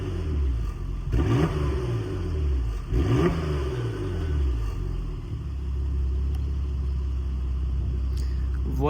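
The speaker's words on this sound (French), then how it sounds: "on entend que c'est en mode sport, c'est un petit peu plus rock qu'en mode confort" Porsche Macan Turbo, 440 hp, starting up and revving in sport mode with the exhaust valve open, heard from the rear. A deep engine rumble swells with two quick revs early on, then settles into a steady idle.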